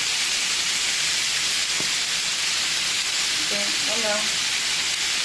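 Bacon lardons fry in oil in a pan that was used for courgettes, giving a steady, loud broadband sizzle throughout, with a brief spoken word partway through.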